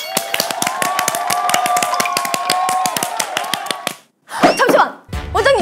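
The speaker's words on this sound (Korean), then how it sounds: "박수 한번 칠까요?" A small group claps hands together in a quick, steady burst for about four seconds at close range, then a few short voices and squeals follow, inside a newly remodeled studio.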